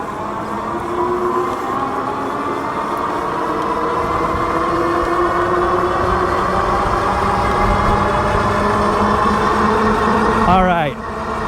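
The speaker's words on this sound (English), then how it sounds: "We're going to begin the climb. It looks like at about 29 miles per hour. So it's just powering through here. The motor is very powerful." A Bee Explorer Lite electric bike motor powers uphill at speed, giving a steady, loud mechanical whine with rising tonal harmonics over constant wind and road rush.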